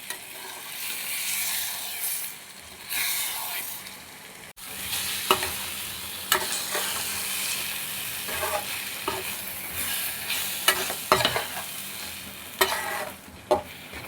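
Mutton brain fry mixture with eggs stirred and frying in a pan: a constant close sizzle broken by repeated sharp scraping strokes of a spoon against the pan.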